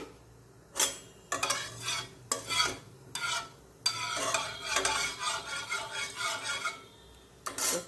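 Mustard oil poured into a hot kadai on a home stove: brief sizzling bursts and metallic clinks of a spoon against the pan come in uneven spurts, close and fairly quiet, with no talk.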